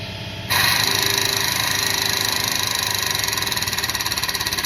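A home workshop air compressor kicks on abruptly and runs loud and steady with a pulsing mechanical hum and a rhythmic chug, close by and filling the space.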